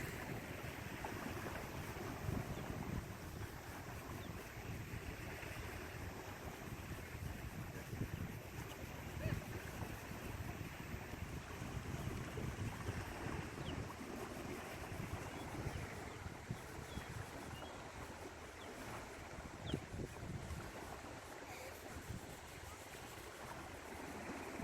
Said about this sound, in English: The sound of water.